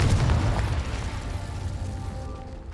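A Confringo spell explosion in the video game Hogwarts Legacy: a loud, booming blast at the start that rumbles on and slowly fades.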